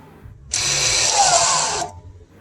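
Rear parking brake motors on a Volvo XC retract in a single steady electric whir of about a second and a half, close and clear with no talking.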